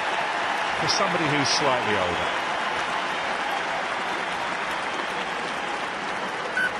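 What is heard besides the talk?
stadium crowd applauding at rugby match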